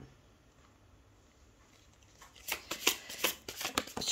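Tarot cards are drawn from a deck, first near silence and then a quick run of crisp, close card flicks and riffling snaps in the second half.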